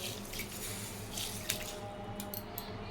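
Soaked lentils for egg tarka are rinsed under a running tap in a kitchen sink, a steady close stream of water with a few sharp splashes and drips near the end.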